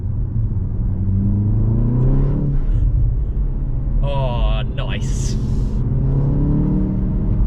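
A brand-new BMW M135 on the road, its engine rumbling steadily close by through the cabin with a brief rev swell midway, while someone talks over it.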